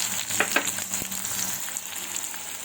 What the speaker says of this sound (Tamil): கடுகு பொரிஞ்ச உடனே கட் பண்ணி வச்ச வெங்காயத்தை போட்டுக்கலாம்.